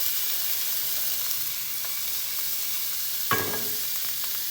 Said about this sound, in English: Going to let that simmer for just a second.